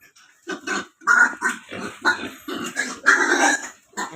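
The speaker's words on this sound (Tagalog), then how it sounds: "at ito naman po yung mga baboy update naman sa baboy" Several pigs on a farm grunt and squeal in close, repeated bursts, with a rough growl-like texture and short gaps between calls.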